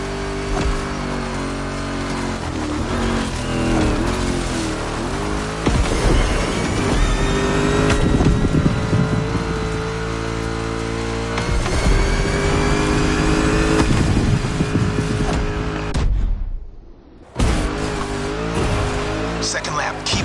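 An off-road vehicle in The Crew Motorfest races through swampland mud, water and weeds, its engine droning and revving steadily over about twenty seconds with a brief dropout near the end, under continuous voices.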